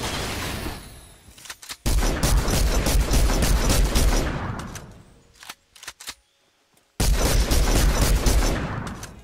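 Legendary infantry rifle fire in a shooter video game: loud, dense bursts of rapid shots that fill the scene, break off into a near-silent gap, then resume at full force with no talk.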